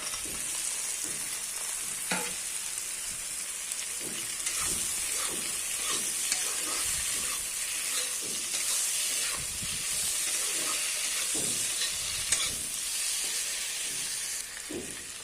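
Tomatoes and potatoes fry in a pan with a steady close sizzle, broken by occasional scraping stirs and soft clinks throughout.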